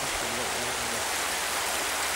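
A small waterfall on a narrow little river splashes as a steady, continuous broadband rush of water, close and even throughout, with a faint low hum beneath.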